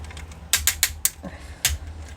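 Tight ratchet joints in the leg of a Magic Square MS-03 Heavy Gunner toy robot figure click sharply about six times in quick, uneven succession, close and crisp.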